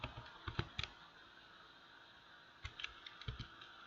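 Typing on a computer keyboard, quiet close key clicks arriving in two short bursts with a pause between them, alone with no talking.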